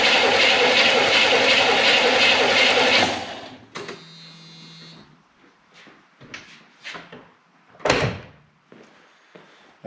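A low-mileage 1972 Corvette engine cranks over on the starter for a compression test on cylinder number 3, a loud, steady, rhythmic churning for about three seconds. It then cuts off, leaving faint clicks and small knocks.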